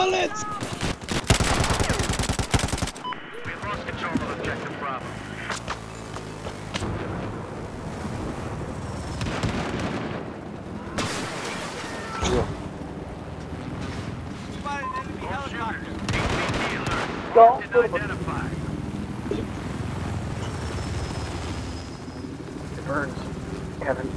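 Gunfire in the video game Battlefield 4, with bursts of automatic weapon fire and single shots mixed with explosions and battlefield noise, while players talk over it.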